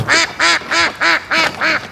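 Muscovy ducks in a flock quack loudly and close by, six evenly spaced calls in a steady rhythm with short gaps between them and no talking.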